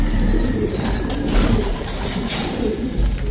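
Pigeons, including barless ice pigeons, cooing in a loft under steady background noise, with low soft coos and some rustling throughout.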